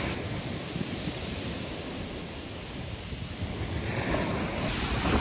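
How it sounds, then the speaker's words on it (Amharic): Rough sea waves surge and crash at Brighton beach, a loud continuous roar of surf mixed with wind buffeting the microphone, with no voices. "ማዕበሉ ራሱ በቃ እንደምታዩት በጣም አደገኛ ማዕበል ነው ያለው።"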